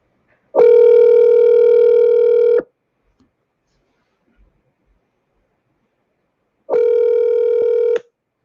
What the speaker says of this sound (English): let me get you on the phone here